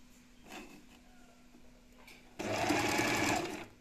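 A sewing machine stitches orange linen trousers in a quiet room, a soft steady whirring burst lasting over a second after some faint handling sounds.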